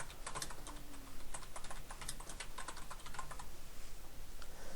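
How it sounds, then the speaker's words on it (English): Rapid, steady typing on a computer keyboard, with dense clicking keystrokes running the whole time at close range and no voices. "I'm just going to type in fake street closure"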